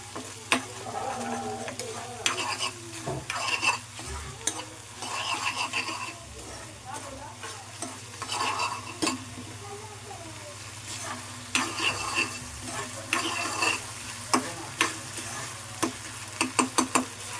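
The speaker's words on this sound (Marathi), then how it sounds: "थोडंसं मिक्स करून घेऊया पास्ता वगैरे आपला कांदा टॅमॅटो सगळं परतून घ्यायचं मस्तपैकी" Onion and tomato for pasta sautéing in a pan, a steady close sizzle with scraping spatula stirs and clinks throughout, while a person talks over the cooking.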